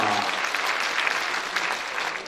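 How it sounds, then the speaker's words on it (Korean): An audience at a Gyeyang district residents' town hall with the Incheon mayor breaks into applause, a dense, even wash of many hands clapping close by that carries steadily throughout without a pause. "뜨거운 박수가 필요합니다"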